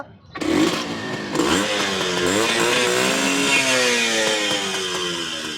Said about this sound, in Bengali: গাড়ির সাউন্ডটাও তো খুব একদম ভালো সাউন্ড